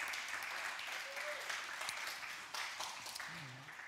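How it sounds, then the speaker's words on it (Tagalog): Church congregation clapping during a Sunday worship service, a soft, distant patter of many hands that swells and fades, with a voice briefly heard over it. "Isa pa nga pong palakpak para sa ating Panginoon."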